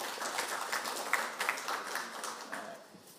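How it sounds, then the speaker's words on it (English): Audience applause for a row of speakers at a conference session on zero-waste and zero-emission goals for municipal solid waste; soft, steady clapping from a modest crowd, fairly faint and even. "Please give applause to all of them."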